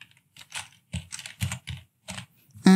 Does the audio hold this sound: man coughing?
no